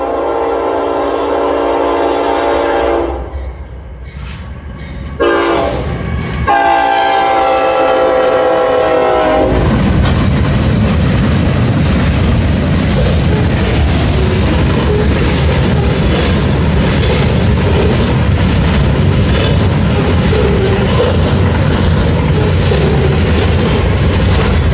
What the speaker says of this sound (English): Could be the last train of the day.